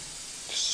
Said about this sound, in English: I'm gonna spray this on,